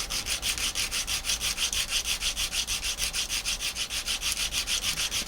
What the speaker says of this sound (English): when you're done, we're just going to go to sandpaper